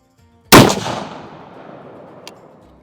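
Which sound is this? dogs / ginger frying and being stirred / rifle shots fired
rifle shots fired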